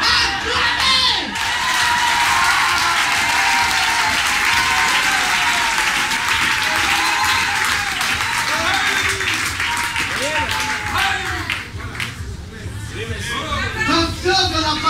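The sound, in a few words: audience applauding a preacher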